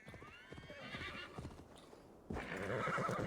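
A horse in Assassin's Creed Valhalla whinnies over rhythmic clip-clopping hooves in a game scene, with a louder burst of sound near the end.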